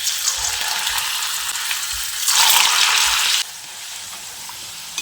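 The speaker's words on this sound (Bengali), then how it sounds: "একইভাবে বাকিগুলোকেও আমি ভেজে নিচ্ছি।" Potato peel snacks deep-fry in oil with a strong, steady hiss, which swells louder for a second in the middle before dropping back to a lighter sizzle, with a few low knocks.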